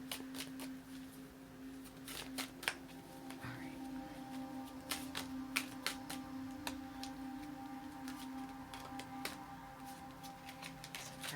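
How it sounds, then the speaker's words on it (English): Playing cards shuffled and flipped close by, giving sharp, irregular papery snaps and ticks scattered throughout, set over a steady low electrical hum. "Cards flipping out."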